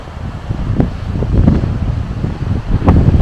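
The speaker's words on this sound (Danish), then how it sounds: "Ja, I må lige leve med, at det blæser." Strong wind blows on the Portuguese Atlantic coast, roaring and buffeting the microphone in low gusts with a steady rushing background.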